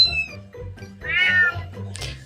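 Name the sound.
cat meowing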